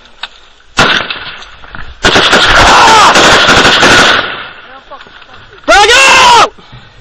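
Rapid bursts of automatic gunfire crack out during an ambush in Afghanistan, coming in loud, dense volleys separated by short pauses, with soldiers shouting orders in between.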